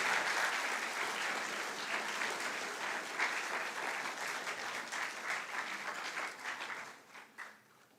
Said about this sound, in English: Let us all take this chance and give a warm applause to our dear parents.